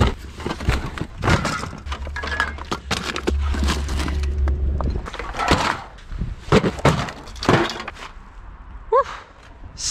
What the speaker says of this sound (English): Smashing cans is probably the weirdest technique of using a spray paint that I know